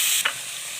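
Grated ash gourd drops into a pan already used for frying cashews and is stirred, giving a brief hissing sizzle with a soft scrape, close and alone.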